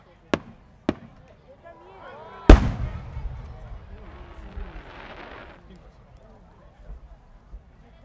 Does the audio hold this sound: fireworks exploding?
yes